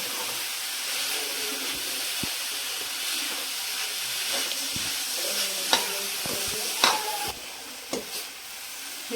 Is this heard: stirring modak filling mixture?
yes